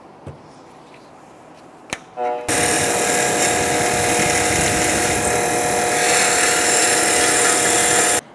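Power tool cleaning the threads of front drive shaft bolts on a 2002-2005 Ford Explorer: after a couple of faint knocks, a loud, steady high-pitched whine starts and runs continuously at close range for about six seconds before cutting off.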